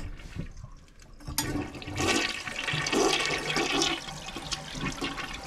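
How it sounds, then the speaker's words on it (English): A freshly reset toilet flushes with a sudden rush of water that swirls and drains steadily for several seconds, close and alone. "Good looking toilet, flushes right down."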